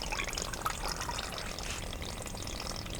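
Circulating cooling water for a distillation condenser setup flows back from a pump, giving a steady, soft, close trickle and splash with no voices.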